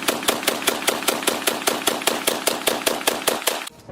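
An AA-12 automatic shotgun fires a fast, steady burst of about fifteen evenly spaced loud shots, close and alone, then cuts off abruptly.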